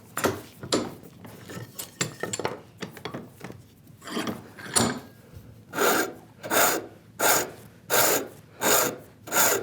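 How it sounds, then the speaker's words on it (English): A rasp files wood while shaping parts for a Paul Sellers router plane kit, starting with quick irregular scrapes and settling into slow, even rhythmic strokes, close and clear with no talking. "we're just using the weight of our rasp and just the weight of our hands, really"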